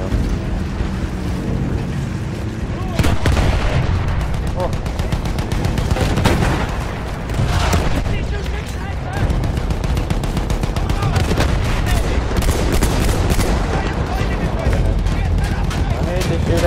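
Battlefield 1 gameplay fills with dense, continuous gunfire and heavy explosive blasts, loud and close, with a voice talking over the battle.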